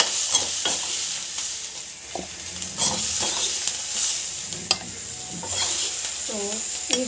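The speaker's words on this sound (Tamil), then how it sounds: "நம்ம வந்து ஆயிலெல்லாம் போடல, அப்படியே வந்து வதக்கி போகிறோம்" Vegetables sautéed in a pan with no oil give a soft, steady sizzle, with repeated stirring and scraping strokes across the whole stretch and no talk.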